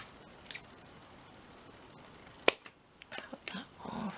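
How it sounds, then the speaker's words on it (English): Scissors snip paper while a paper bag journal is being decorated, giving a single crisp cut amid quiet rustling and a few soft handling clicks. "Cut that off."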